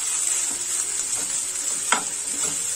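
Green peas stirred and roasted in a pan make a steady, moderate sizzle with a few soft scrapes of the spoon scattered through it. No voices are heard.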